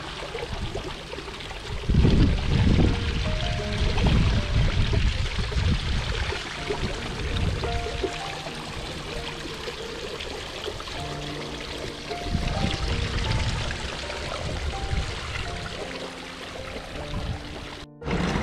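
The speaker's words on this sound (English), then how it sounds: "This is my personal favourite part of Chalice Well, is this lovely waterfall." A small garden waterfall at Chalice Well in Glastonbury rushes and splashes continuously, a dense, close, steady roar of falling water with surges in loudness and no voices.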